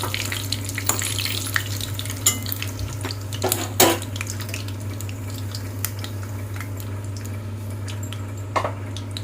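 Marinated tuna fish pieces frying in a pan, a steady sizzle with intermittent clatter of utensils against the pan and occasional sharper knocks.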